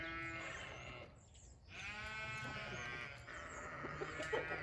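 Hungry farm sheep bleat in long, wavering calls against a busy barnyard backdrop, the voices overlapping and fairly close, with a brief lull midway before the bleating resumes.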